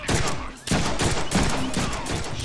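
Rapid gunfire bursts in the Deadpool video game, dense loud repeated shots in overlapping volleys, close and continuous throughout.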